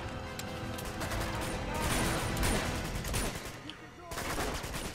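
Repeated bursts of automatic gunfire during a city firefight in Uncharted 2, dense and continuous with swelling intensity and short gaps, fairly close, with voices faintly underneath.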